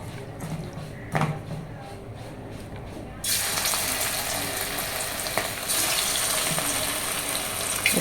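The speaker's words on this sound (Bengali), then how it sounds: "এই তেলটা গরম হয়ে গেছে, আমি এবার চিকেনগুলো একটু ভেজে নিই" Chicken pieces go into hot oil for chilli chicken and set off a loud, steady sizzle that jumps up sharply and stays dense, with brief clinks from a pan before it starts.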